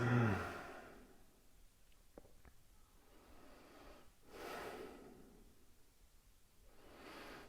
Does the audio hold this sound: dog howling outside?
no